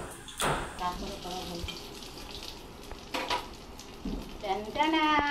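Stuffed spiny gourd (kakrol) chops fry in hot oil with a continuous bubbling sizzle, close and moderately loud, broken by occasional scraping and clatter as they are turned.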